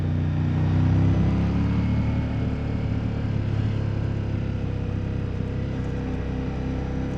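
A 2025 Ducati Multistrada V4 S engine runs steadily in second gear, a continuous low droning rumble with constant loudness and wind noise behind it, no voices.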